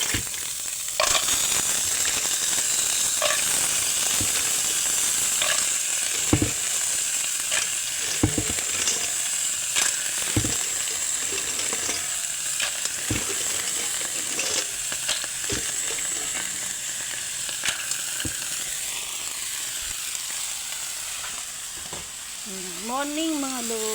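Mussels sauté in a hot pan for ginisang tahong, giving a steady, loud, close sizzle with occasional clicks and scrapes of stirring throughout.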